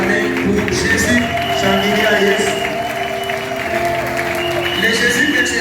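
A church congregation claps for Jesus in a loud, sustained round of applause, while a voice speaks over it and tonal music or singing sounds underneath.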